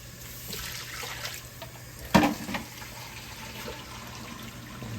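Water splashes briefly into a pan about halfway through, a short burst of pouring against a quiet background.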